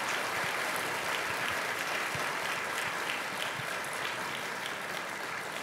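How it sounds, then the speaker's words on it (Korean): Sustained, dense applause from a church congregation at a dawn prayer service, steady and fairly loud throughout with no voices standing out. "우리 다음 세대를 위해서 다시 한번 큰 격려의 박수 부탁드립니다"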